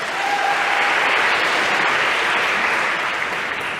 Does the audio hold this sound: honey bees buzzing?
no